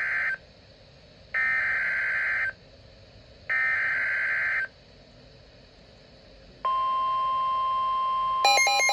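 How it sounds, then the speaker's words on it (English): A NOAA weather radio sounds its severe weather alert: loud, steady electronic beeps pulse on and off about once a second, then a long continuous alert tone takes over, ending in a brief burst of data-like chirps. "a dedicated NOAA weather radio, which can actually alert like a pager when a severe weather alert is issued"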